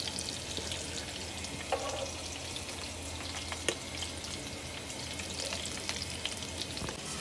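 Gola kabab frying in a pan, giving a steady, fairly quiet sizzle with occasional sharp pops and crackles over a continuous hiss.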